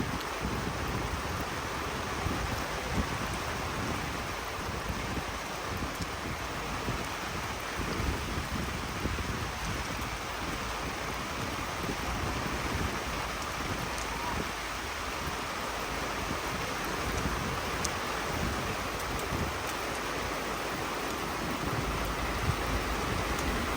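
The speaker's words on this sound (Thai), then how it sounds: "ฝนตกจ้า" Rain falls at a river in a steady, even hiss that continues unbroken for the whole stretch, loud and close, with no voices.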